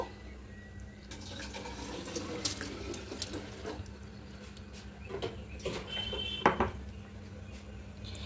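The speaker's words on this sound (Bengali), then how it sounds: "এবার কড়াইয়ের মধ্যে সাবুটা দিয়ে দেব।" Sago being poured into a small wok, with light clinks of cookware and utensils, faint watery rattling and scraping, and a sharper clatter near the end.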